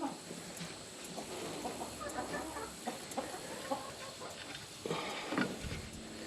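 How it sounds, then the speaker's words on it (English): Chickens in a backyard flock cluck softly and intermittently at a distance over a steady outdoor hiss, with no talk. "Look at this crazy chicken that obviously doesn't understand the danger of a snake right here."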